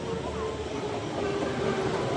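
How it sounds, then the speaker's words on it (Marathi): A train pulls into a busy railway station, a steady rumble and rattle of carriages in the foreground with crowd chatter and voices mixed in underneath. "ट्रेन आली"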